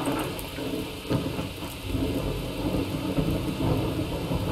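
Heavy rain pours steadily in the survival video game Miscreated, with rolling thunder rumbling low underneath and a few sharper cracks, loud and continuous for several seconds with no talking.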